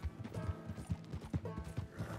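Horse hooves clip-clop at a steady trotting rhythm in the Red Dead Redemption 2 video game, close and clear with no talk, part of a stagecoach theft mission.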